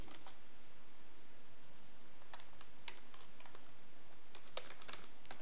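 Keystrokes on a computer keyboard while editing a .gitignore file, arriving in quick irregular clusters, light and close against a quiet, faintly hissy room.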